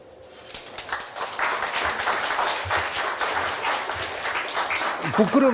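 University lecture audience breaks into applause, building quickly after a quiet start into a dense, steady clapping, with a voice cutting in briefly near the end.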